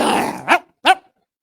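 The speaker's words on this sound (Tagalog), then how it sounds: "Yung aso mo naman, nagwawala." A dog at a gate growls and then lets out two short, sharp barks, close and fairly loud, with silence after.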